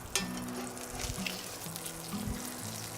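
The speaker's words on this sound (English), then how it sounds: "You can hear our duck breast just slowly sizzling away." Duck breast sizzles steadily in a hot pan as its fat renders, a constant crackling hiss with occasional louder pops and a low hum underneath.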